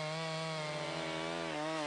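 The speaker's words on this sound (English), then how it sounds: "A gasoline-powered two-stroke engine drives a chain outfitted with sharp metal teeth." A gasoline-powered two-stroke chainsaw with an 18-inch bar runs steadily at close range, a loud buzzing engine drone with a slight dip in pitch near the end.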